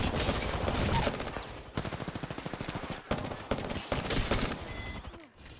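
Rapid automatic gunfire in the Apex Legends video game, dense rattling bursts with sharp regular shots and brief pauses between volleys, loud and close, with no voices over it.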